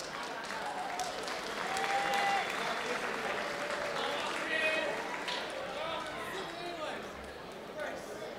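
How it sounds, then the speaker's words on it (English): A packed crowd at an AFC 20 mixed martial arts fight in Melbourne applauds loudly and steadily through the whole stretch, with cheers, whistles and an announcer's voice over the noise. "Big round of applause, Melbourne"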